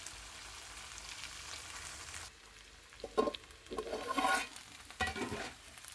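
Cluster beans frying in oil in a pan, a steady soft sizzle with a few louder bursts of stirring and scraping partway through, close by, no voices.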